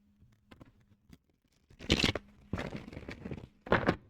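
Tarot cards are shuffled in several short bursts of riffling and crisp card rustle, close and fairly quiet, separated by brief pauses.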